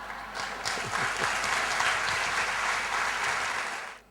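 An audience at a Catholic educators' conference applauds, sustained dense clapping swelling quickly and holding steady before cutting off abruptly near the end.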